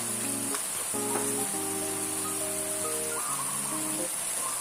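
Beef, basil and Thai eggplant stir-fry sizzles steadily in a pan, a continuous close frying hiss broken by a few light stirring scrapes, with no talk.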